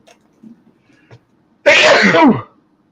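A single loud, close sneeze bursts out after a few quiet breaths, then fades to silence.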